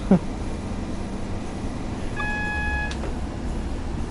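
A diesel train's Cummins LTA10-R engine changeover in Train Sim World, on the West Coast Main Line between Preston and Crewe: a steady low engine drone with a brief sustained tonal whine partway through, a click near the start, no talk.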